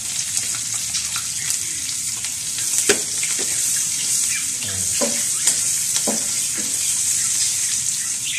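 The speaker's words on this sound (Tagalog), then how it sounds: "ito na yung saute natin doon sa pinagprituhan yung onion" Onion sautéed in the oil left over from frying, heard close as a continuous bright sizzle with scattered spattering pops and light utensil clinks throughout.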